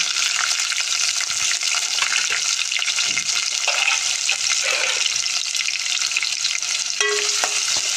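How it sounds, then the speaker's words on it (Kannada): Onions with cinnamon and cloves fry on high flame for a khuska kurma, giving a steady, loud sizzle that runs throughout, with occasional stirring scrapes and a brief clink near the end. "ಚೆನ್ನಾಗಿ ಈರುಳ್ಳಿ ಹಾಕ್ಕೊಂಡು ಬ್ರೌನ್ ಕಲರ್ ಬರೋವರೆಗೂ ಚೆನ್ನಾಗಿ ಬೇಯಿಸ್ಕೊಳ್ಳೋಣ"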